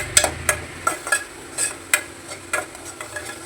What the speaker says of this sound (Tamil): வெங்காயம் நல்லா பச்சை வாசனை போகிற வரைக்கும் வதக்குங்க.